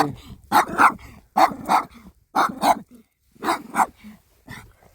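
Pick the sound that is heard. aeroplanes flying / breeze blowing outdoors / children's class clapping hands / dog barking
dog barking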